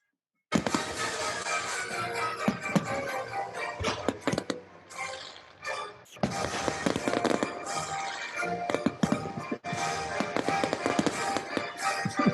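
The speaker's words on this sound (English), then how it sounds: "We certainly know how to put on a firework display." Dense crackling fireworks popping and sizzling continuously, loud and close, with sharp bursts and brief lulls between volleys.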